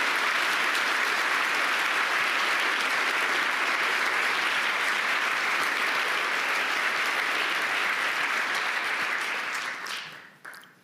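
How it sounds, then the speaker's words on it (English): Closing applause from a large conference audience at the Munich Security Conference, a sustained wash of clapping at steady loudness that tapers off abruptly in the final second. "Let's give them a round of applause."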